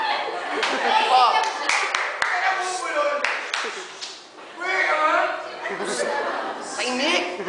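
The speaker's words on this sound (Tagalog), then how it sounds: "Ang pinakamalakas na palakpak ay siyang mananalo" A crowd claps hard in a clapping contest, bursts of applause mixed with loud shouting and cheering voices.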